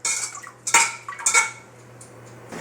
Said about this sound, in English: Now we're going to stir that in.